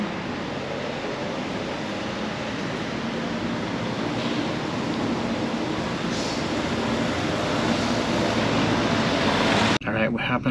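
Inside an SNCF Ouigo train running from Toulouse to Paris, a steady broadband rumble of wheels and car noise continues throughout at even loudness, with a brief rattle near the end.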